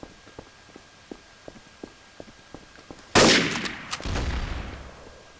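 Gunfire in the video game Trouble in Terrorist Town: a run of soft rhythmic footsteps, then a sudden loud burst of gunshots followed by a second heavy crash, all close and with no talk over it.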